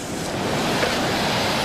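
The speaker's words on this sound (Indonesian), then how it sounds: "Wah, pinggir pantai banget nih." Waves wash steadily onto a beach shore at Kelapa island, a broad, constant roar of surf with wind and no voices.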